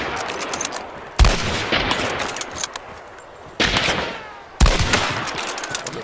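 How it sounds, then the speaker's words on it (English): Gunfire in the game Hunt: Showdown cracks out in three loud, sharp reports, each trailing into a long rumbling echo, with no talk over it. "letting those bullets just fly past his ears and doesn't move or budge"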